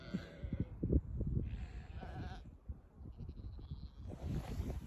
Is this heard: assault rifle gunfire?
no